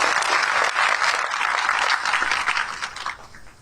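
A gathering's applause for people seated on stage at a community meeting, dense and steady clapping that holds strong for about three seconds before tapering off at the end.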